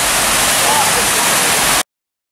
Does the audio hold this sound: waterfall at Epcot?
yes